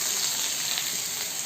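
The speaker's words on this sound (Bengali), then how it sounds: "ওই শুকনো মাছের তরকারি এখন তো ভাজা হচ্ছে।" Dried fish curry frying in a pan gives a steady, close, bright sizzle with no pauses and no voices.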